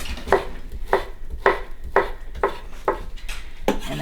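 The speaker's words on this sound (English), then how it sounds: "we're just going to slice it into little" Kitchen knife chopping ham into small cubes on a cutting board for an omelette, a steady series of about seven crisp knocks at an even pace, close up with no talking.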